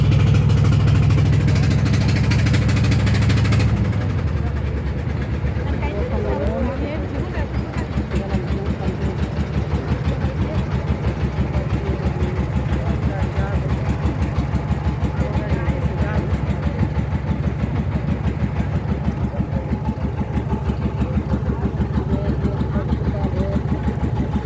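A loaded ferry boat's engine chugs in a steady, even pulse while crossing the river from Nabiganj ghat to Bandar ghat in Narayanganj. The engine is loud and close throughout, with an initial rise as it picks up.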